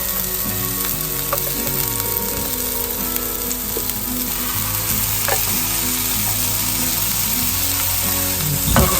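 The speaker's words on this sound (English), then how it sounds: "Add 1 teaspoon of crushed garlic." Crushed garlic sautés in a pan with a loud, close, unbroken sizzle, with faint stirring clicks scattered throughout and a small bump at the end; nobody talks.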